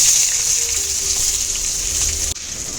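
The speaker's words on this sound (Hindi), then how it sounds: "now we will just stir fry it until the onion is little translucent" Chopped onions with cardamom stir-fry in a pan for an Odia mackerel fish curry, giving a steady, close sizzling hiss that ends with a brief dip near the finish.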